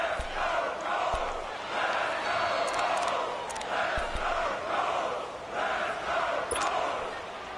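Stadium crowd in an American football video game on PS4 roars and cheers ahead of a big third down, swelling in repeated waves of loud, sustained noise with no clear talk.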